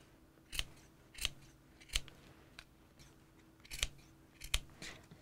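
Scissors snipping paper into fringe for craft carrot tops, six crisp separate cuts spaced roughly a second apart, close and clear against a quiet room.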